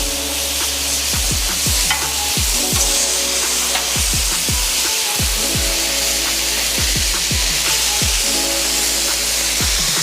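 Burger patties for a Double Double sear on a flat griddle in a loud, dense, constant sizzle, with quick clicking scrapes of a spatula repeating throughout.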